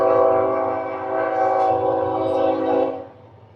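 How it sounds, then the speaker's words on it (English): Train horn blaring loudly and steadily for about three seconds from a passing train nearby, then cutting off to a quieter rumble. "Train."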